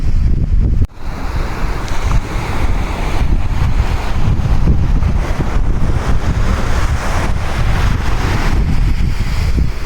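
Sea surf at Dhanushkodi beach rolls in as a steady, loud wash, with heavy wind buffeting the microphone throughout and no voices.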